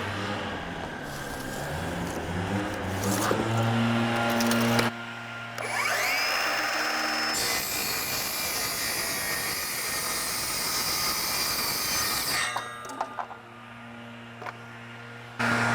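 Power tool making a freehand cut across a wooden board: a rising motor whine and then a long, steady, fairly loud cutting drone before it winds down.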